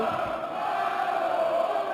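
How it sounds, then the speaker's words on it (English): A darts crowd at the PDC German Darts Championship roars and cheers in a big hall. The noise is a sustained, dense wash of voices that stays at an even level the whole time. "this crowd really getting stuck into it early doors"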